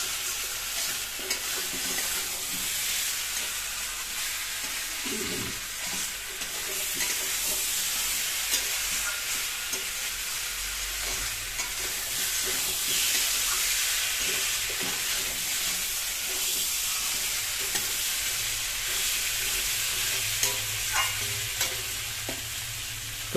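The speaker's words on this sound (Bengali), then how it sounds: "আমাদের এখানে কষাটা প্রায় হয়ে আসলো, তাই তো?" Onion, garlic, ginger and spices sauté for khichuri, a steady loud sizzle and hiss with scraping stirring throughout, continuous and close, with no talking.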